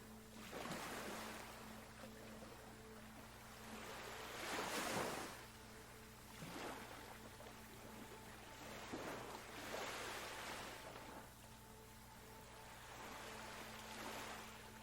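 Gentle ocean waves wash onto a beach shore beside turquoise shallows, soft swells rising and receding about every two to three seconds, faint and unhurried.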